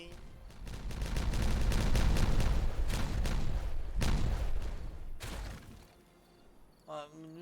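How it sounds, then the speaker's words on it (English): Explosives detonating in Timberborn, a run of loud blasts and crackling bursts over the first few seconds, then fading to quieter rumble. "Now we're gonna detonate all these."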